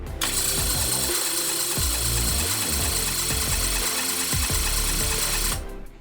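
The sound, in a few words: 1976 Ford Capri Ghia engine cranking on starter, ignition off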